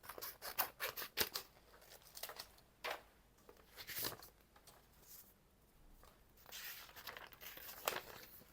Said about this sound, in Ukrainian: відкриємо яскравий помаранчевий конверт номер 6